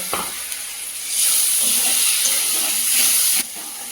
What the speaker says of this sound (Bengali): লবণ সামান্য একটু জল দিয়ে মশলাটা ভেজে নেব